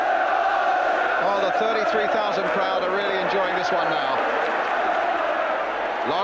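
Crowd of 33,000 at a football match cheering and chanting in a steady, full roar, with rising shouts and whistles, under a commentator's voice.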